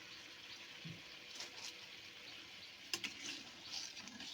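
Water is poured into a pan of Bengali pabda fish curry with mustard and poppy seed, a soft, steady splashing trickle at low volume, no talking.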